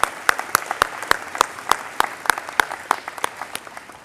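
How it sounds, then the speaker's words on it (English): Applause for eighth grade graduates at the Sycamore School graduation ceremony: a steady run of sharp, evenly spaced claps, fairly close and clear, with no talking. "give yourselves a round of applause"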